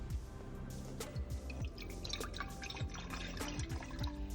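Warm water heated on a stove is poured into an enema bag, giving close, quiet trickling and dripping with small splashes and bubbly plops.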